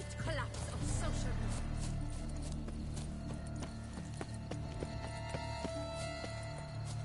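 Horse hooves clip-clop at a steady riding gait in The Witcher 3: Blood and Wine, close and continuous beneath game music and ambience, with a brief whinny near the start.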